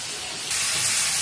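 Masala sautéing in a pan, a continuous bright hiss that swells louder halfway through, close and steady with no voices.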